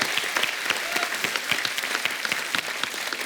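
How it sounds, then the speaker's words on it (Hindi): Studio audience on a TV comedy show breaking into loud, dense applause, a continuous roar of many hands clapping with scattered cheers, filling the whole moment without speech. "जोरदार ताली हो जाए सर के लिए"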